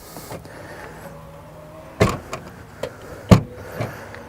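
Power tailgate on a BMW X4 M40i opening, a soft electric motor whir with a couple of sharp thuds from the latch and hinge, close and quiet with no talk.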